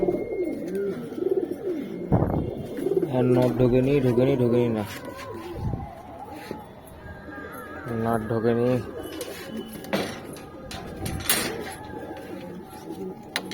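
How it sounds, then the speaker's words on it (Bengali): Pigeons in a neighbour's loft coo nearby in two distinct bursts of rippling throaty calls, while someone talks close by between and over them. "পাশের বাড়ি একজনের পায়রা, কাবড়া বাচ্চা হয়েছে"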